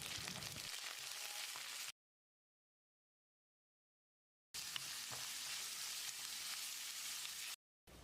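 Onions, mint and coriander leaves sizzling and frying in a hot pan, a steady crackling hiss interrupted by a couple of abrupt silent gaps.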